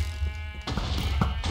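Sheep bleating in a Minecraft-style block-building video game, a few short nasal bleats over a steady low game hum, close and moderately loud.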